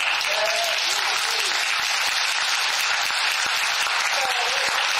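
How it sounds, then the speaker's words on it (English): A regional event crowd gives Jen a steady round of applause, a dense and even wash of clapping with a faint voice briefly audible beneath it. "I just want to give Jen a round of applause"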